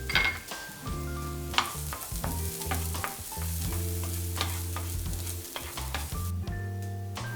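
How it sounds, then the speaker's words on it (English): Onions sizzle steadily in a pan of hot coconut oil, a loud continuous frying hiss broken by repeated stirring and the clatter of a utensil against the pan. "Gonna add in our onions."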